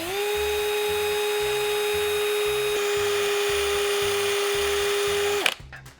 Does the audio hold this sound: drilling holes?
yes